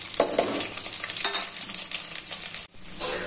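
Steady crackling sizzle of spices frying in hot oil for a crab curry, dense and continuous, with a brief dip near the end before the sizzling resumes.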